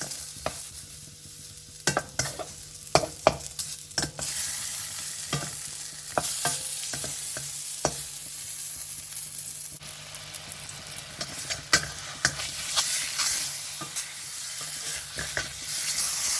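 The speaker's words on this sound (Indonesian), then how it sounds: "ini si pisang akan kita goreng sebentar dengan 2 sendok makan mentega" Bananas fry in butter, sizzling and crackling steadily in a pan, with scattered clicks and scrapes of stirring throughout; no one speaks.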